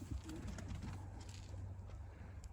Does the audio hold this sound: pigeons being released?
yes